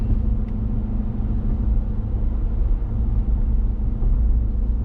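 A Ram 1500 pickup with the 5.7 Hemi V8 and a Borla S-Type catback exhaust cruising at 55 mph, giving a steady low engine drone and road rumble that holds even and unbroken throughout, with no talking.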